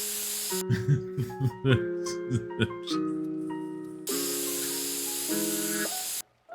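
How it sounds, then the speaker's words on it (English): Concrete sprayed on in The Sims 3 building mode, with a sustained loud hissing spray lasting a couple of seconds over game music, following a stretch of talking. "Can you imagine this is how real concrete works?"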